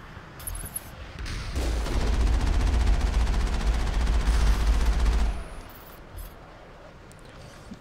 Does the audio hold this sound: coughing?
no